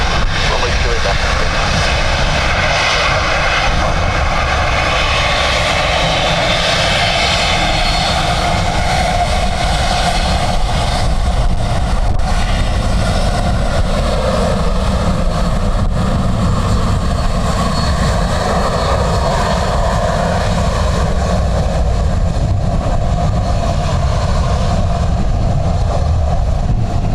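Airliner landing at Dublin Airport in a gusty crosswind, heard as a loud, steady roar of jet engines that carries on for the whole stretch, with voices talking faintly underneath.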